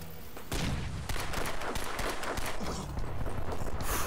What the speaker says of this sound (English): Got him with the pistol, but I think somebody else is on me.